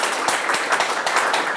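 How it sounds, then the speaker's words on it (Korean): A crowd claps for a newly inaugurated chairman at an inauguration ceremony, brisk dense applause of many hands with a few sharper individual claps standing out, close and continuous. "우리 오늘 취임식 하시는 회장님께 힘찬 박수 한번 부탁드리겠습니다"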